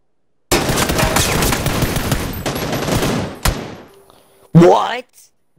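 Rapid automatic gunfire in the PUBG video game rattles loudly for a few seconds, followed by a sharp single shot and a later burst, with voices talking over the action.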